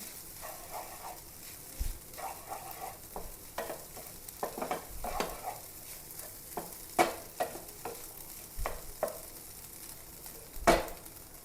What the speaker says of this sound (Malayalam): ഇപ്പോൾ രണ്ട് മുട്ടയും കൂടി ഞാൻ ചിക്കി വറുക്കണേ കേട്ടോ